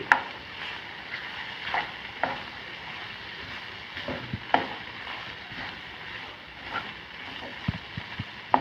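Egg and green peas fry in a pan while being stirred, giving a soft, steady sizzle broken by scattered light scraping and clinking strokes of the utensil.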